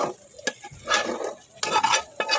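Cooked beef being stirred into rice in a pot for beef biryani, with scraping spoon strokes and soft clinks against the pot coming in uneven bursts, close and alone.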